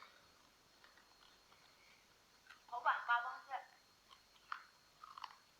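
Someone eating whole scorpions, crunching and biting: a cluster of crisp, close chewing crunches in the middle, then a few sharp bites over a quiet background.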